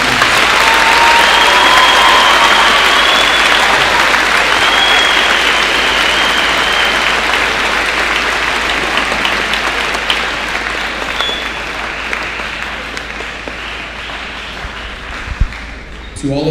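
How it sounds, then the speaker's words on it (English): A large audience at a Kirkwood High School Veterans Day ceremony gives recognized veterans a sustained round of applause, loud and dense at first and slowly thinning toward the end, with a faint whistle and voices mixed in. "Please give a round of applause for our recognized veterans."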